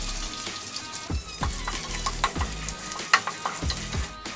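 Urad dal and dried red chillies frying in oil in a pan while being stirred, a crackling sizzle with frequent small pops and scraping strokes, close by with no one speaking.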